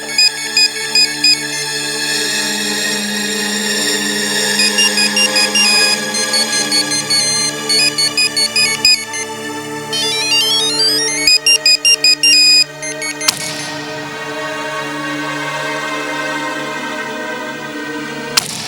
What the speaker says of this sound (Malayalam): എന്താ ഫോണിന്റെ ശബ്ദാണല്ലോ അത്